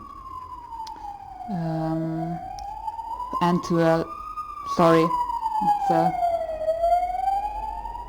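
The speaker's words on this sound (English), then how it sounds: "ambulance coming by. Can't hear myself." A wailing ambulance siren sweeps slowly up and down as it passes close by on a street in Sicily, loud and continuous, with a person talking intermittently over it.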